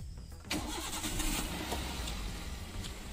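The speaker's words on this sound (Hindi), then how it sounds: "पहले हम कार चालू करते हैं।" A car engine cranks and catches at about half a second, then settles into a steady, fairly loud idle that runs to the end, heard from close by with no talk over it.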